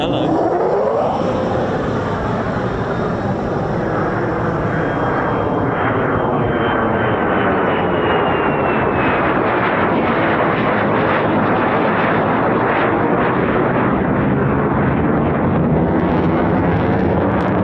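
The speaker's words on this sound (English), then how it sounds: "So here comes our F-35 now from its circuit that's just gone round now" An F-35 fighter jet coming round on its circuit at RAF Lakenheath, a loud, steady jet engine roar that stays close and sustained throughout, with some wind buffeting on the microphone.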